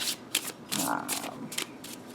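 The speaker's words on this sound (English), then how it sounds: "these are probably going to have to be overhand shuffle" Tarot cards with a rough, slightly glossy finish are shuffled overhand, a series of close, crisp riffling bursts separated by brief pauses, loud and alone.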